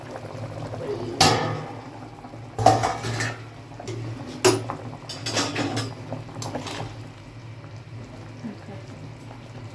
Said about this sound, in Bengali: এবার চাপাটা খুলে দেখে নেব আলুগুলো সেদ্ধ হয়েছে নাকি